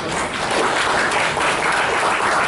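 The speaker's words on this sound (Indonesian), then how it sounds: "tepuk tangan itu biar meriah" An audience at a Peradi Surabaya branch meeting claps together in a dense, sustained burst of applause that holds steady and loud.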